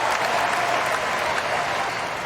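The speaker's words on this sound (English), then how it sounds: "Crowd trying to urge Tiafoe back into this game." Tennis crowd at the US Open applauding steadily in a dense, even wash of clapping throughout, loud and close-sounding, with faint commentary underneath.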